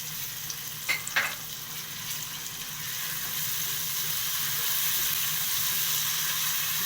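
Minced garlic frying with softened onion in a pan, a steady soft sizzle that swells slightly midway, with a couple of brief clinks of a spoon near the start.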